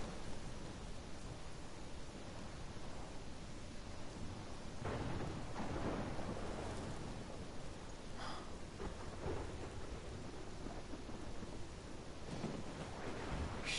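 A thunderstorm rages in the video game Life Is Strange, with steady hissing rain and wind under several deep rolling thunder rumbles and sharper cracks scattered through, loud and immersive, with no voices.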